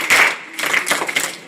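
A group of school students claps out a set rhythmic pattern at a Holi celebration, a few sharp bursts of hand claps close by with short gaps between them.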